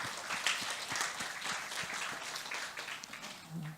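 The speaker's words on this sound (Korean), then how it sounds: "우리 하나님께 영광의 박수를 다시 한번 올립시다." Church congregation at a youth worship service breaking into sustained applause, a dense wash of many hands clapping together, fairly distant and even throughout.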